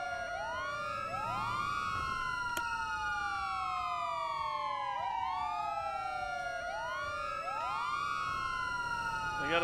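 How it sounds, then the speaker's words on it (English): Wailing police car sirens in a roleplay driving game, several overlapping rising and falling sweeps repeating steadily and loudly for the whole stretch. "it sounds like to me that my sirens are on"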